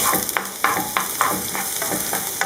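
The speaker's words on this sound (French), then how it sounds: "je vais rajouter une oignon que j'ai coupée en petits morceaux, très fine." Finely chopped onion sizzles in a hot pan, a constant frying hiss broken by regular scraping strokes of a stirring utensil, close and fairly loud with no speech.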